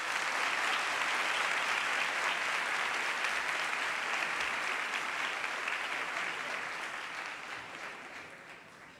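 A church congregation gives a round of applause during a Sunday Mass baptism, a thick, steady wash of many hands clapping that fills the space and slowly tapers off toward the end.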